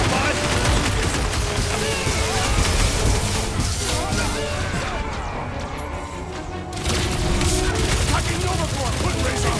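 Big guns firing in the Guardians of the Galaxy video game, dense continuous bursts and booms over a loud, cluttered battle mix that dips briefly midway before surging back.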